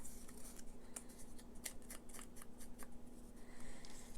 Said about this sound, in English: I'm going to cut another little dovetail on, same as I did before, like that.